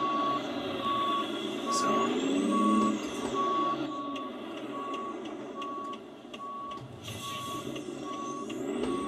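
A truck backing in a trailer with its reversing alarm beeping in a steady, evenly spaced series, clear and fairly close over a low engine rumble and a hiss like air brakes, with a brief word spoken.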